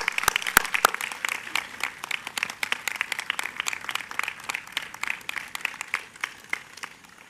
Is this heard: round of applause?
yes